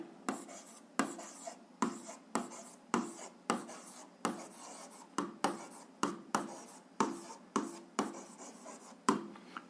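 A pen writes a math formula on paper in a steady series of short scratchy strokes with small pauses between them, close and fairly quiet, with no talking.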